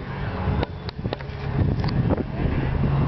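Loud gusty wind buffets the microphone at an RC plane flying field, a constant low rumble with a few sharp knocks.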